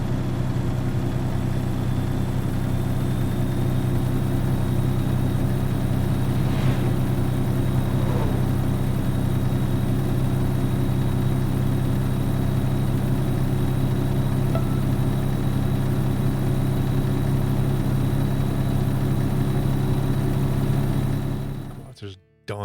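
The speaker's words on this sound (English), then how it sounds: "Dial the audio down a little bit on that engine." Steady idling rumble of a truck engine in American Truck Simulator, a loud low drone with layered hum holding evenly throughout before cutting off at the very end.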